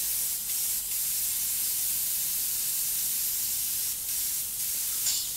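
An airbrush blows enamel paint through after acrylic residue is cleared, making a continuous close, loud airy hiss that holds steady for several seconds with slight pulses.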